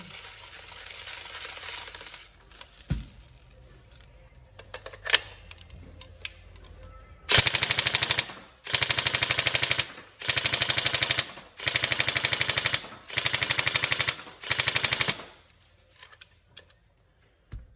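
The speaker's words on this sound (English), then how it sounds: "Slightly lower rate of fire on this one because it's using the double torque gears." A Tokyo Marui M4 SOPMOD NGRS airsoft electric gun with double torque gears and a standard Warhead motor fires five loud, close full-auto bursts, each about a second long, after a few quieter mechanical clicks.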